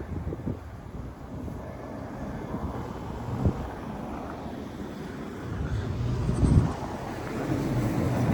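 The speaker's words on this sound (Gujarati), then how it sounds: "મસ્ત મજાનો પવન છે" Wind buffeting the microphone outdoors in fresh snow, a low, rough rumble, with gusts swelling stronger toward the end.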